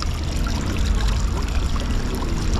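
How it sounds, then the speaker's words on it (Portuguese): Cold water pouring from a public drinking fountain on a small square in Sofia, a loud, continuous close-up gush and splash with no talking. "Água geladíssima agora da fonte, aqui na pracinha"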